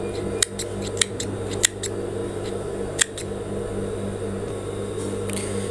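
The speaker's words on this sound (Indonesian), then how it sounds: "Gunting, mengguntingnya ini jangan sampai mengenai benang ya." Scissors snip through fabric while sewing a sailor collar, four or five sharp, separate cuts spaced irregularly over a steady low hum of room or machine noise, with no voices.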